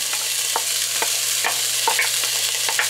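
Colorful peppers go into a hot pot for baked spaghetti, giving a steady close sizzle with occasional light scraping clinks of stirring.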